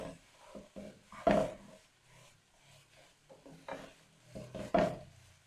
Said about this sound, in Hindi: शिमला मिर्च और गाजर ये शामिल करके स्टर फ्राई कर लें।